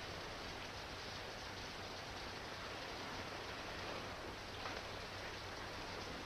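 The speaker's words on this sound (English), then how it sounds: "It's raining." Steady rain falling, a soft continuous hiss with no breaks, moderately distant and even throughout.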